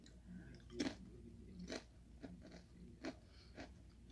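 Sour cream and onion potato chips are crunched in a series of faint, close bites and chews, about six distinct crisp crunches spaced irregularly against a quiet background with no talking.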